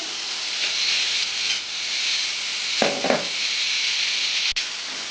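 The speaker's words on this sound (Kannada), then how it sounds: "ಚೆನ್ನಾಗಿ ಫ್ರೈ ಮಾಡ್ಕೊಳ್ಳೋಣ." Mushrooms frying in a pan for a mushroom pepper dry make a steady, close sizzle and hiss throughout, broken by a brief stirring scrape partway through.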